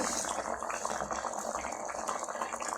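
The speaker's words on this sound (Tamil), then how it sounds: "இப்போ நம்ம வந்து கொஞ்சமாக அந்த புளி சொன்னாங்களா அதை கொஞ்சம் ஊற்றிக்கணும்" Tamarind water poured into a pot of mixed vegetable curry, a steady close splashing trickle of liquid that runs unbroken throughout, with no talking.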